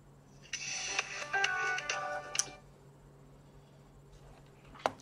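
A telephone rings with a burst of electronic ringtone tones lasting about two seconds, then falls quiet before a short click near the end.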